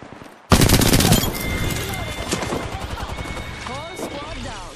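Loud bursts of automatic gunfire in the battle royale shooter Apex Legends erupt suddenly and continue in rapid rattling volleys, fading somewhat, with spoken voices and game effects mixed in.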